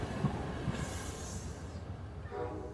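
A London Underground train runs with a low rumbling roll and a hiss, faint and steady, with a brief rising squeal of wheels near the end.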